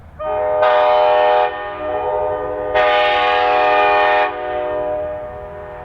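Clinchfield Railroad 800, a 72-year-old vintage locomotive pulling a freight train on a heritage railroad, sounds its horn in two loud, sustained chords close by over a constant low rumble.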